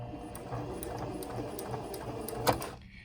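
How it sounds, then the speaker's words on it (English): A sewing machine stitches a few forward stitches and then reverses, producing a steady fast mechanical whir with regular ticking beats, close and fairly quiet, ending in a brief click as it stops. "sewing forward a couple stitches and then sewing backwards a couple stitches using that reverse button"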